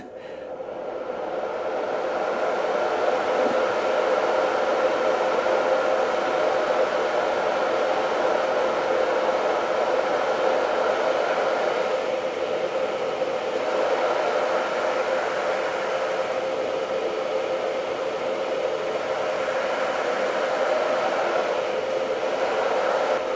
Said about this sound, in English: let me play the fan sound again